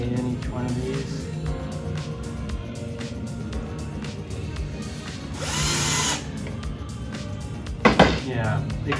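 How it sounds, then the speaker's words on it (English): A power drill drives screws to mount a blade, with one short whirring burst in the middle and a brief second one near the end. A person talks over it, and tools clink against each other. "Just screw it most of the way in each one of these."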